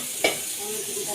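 Dal being tempered in a hot pan in a home kitchen gives a quick sizzle and hiss, with a soft clink near the start.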